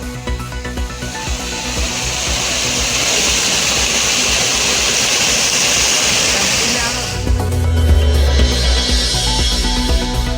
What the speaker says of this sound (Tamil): ஐநூறு அடி ஆழ்துளை கிணற்றிலிருந்து திடீரென வெளியேறிய எரிவாயு பதினைந்து மீட்டர் உயரத்திற்கு பீச் அடித்த தண்ணீர்